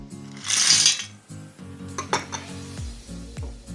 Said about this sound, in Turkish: Tencerenin içine bir kase ceviz kabuklarını koyalım.